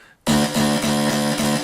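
A bright synth pattern starts abruptly and pulses in a steady repeating rhythm, slightly more open and buzzy than a fully darkened tone, loud and alone.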